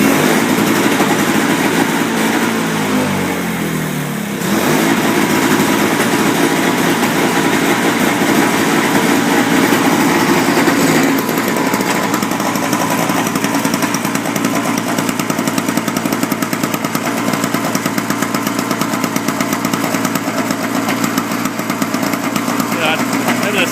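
A Yard Machines single-stage gas snow thrower engine runs loudly and steadily close by, a raspy small-engine drone throughout, with a slight dip early on.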